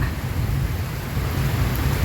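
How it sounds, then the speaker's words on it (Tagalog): Steady heavy rain pours without pause, with a deep low rumble of thunder running underneath throughout. "Ulan na naman."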